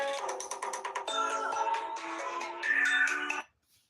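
A telephone rings for an incoming call-in caller, a series of bright electronic trilling bursts repeating rapidly and clearly, then cutting off abruptly near the end, leaving brief quiet.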